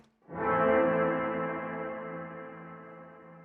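Electric guitar chord through a Quad Cortex reverb, a single strum that swells in softly and rings out in a long, smooth tail, slowly decaying and still sounding at the end.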